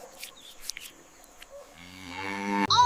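A cartoon cow on a farm lets out a long, loud, rising moo that swells near the end of the moment, following a few softer scattered sounds.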